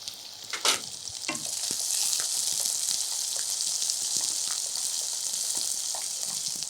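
Onion, green chilli and curry leaves fry in hot oil for a curry-leaf chicken fry, giving a steady, close bright sizzle with a few stirring scrapes early on; nobody speaks.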